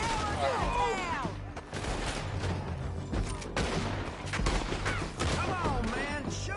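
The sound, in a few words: gunfire in video game Red Dead Redemption 2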